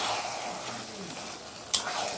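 Marinated mutton fries in a kadai with a soft, even hiss of hot oil and one sudden metallic clank of a utensil near the end.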